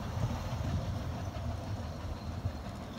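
A steady low rumble of a Ffestiniog Railway train rolling along the tracks near the sea, with faint rhythmic clacking, heard from nearby without any voices.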